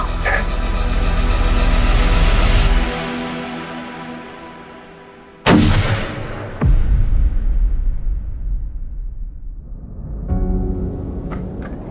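A hunting rifle fired at game outdoors: one sudden, loud, sharp report midway through, followed by a fading tail and a second, lighter thump, set against steady background noise.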